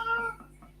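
A pet cat gives a brief meow, loudest at the start and then tapering off, heard nearby indoors while she asks to be let out.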